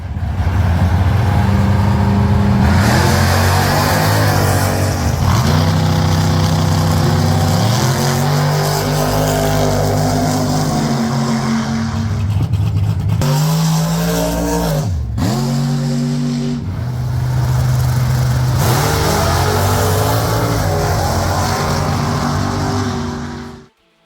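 Drag racing cars at a car show, engines revving hard in repeated rising pulls with gear-change dips, loud and close, the roar briefly cutting out midway before surging again.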